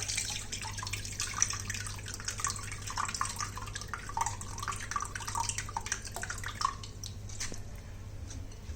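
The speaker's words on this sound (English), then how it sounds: "And take out the water." Water being poured off washed sabudana tapioca pearls in a kitchen: faint, close dripping and trickling with small splashes, steady and quiet with no talk.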